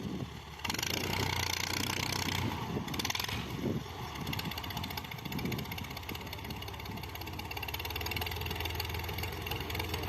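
Tractor engine running in farm fields, a loud steady mechanical drone with rattling, knocking texture that kicks up sharply after a brief start and continues close by without pause.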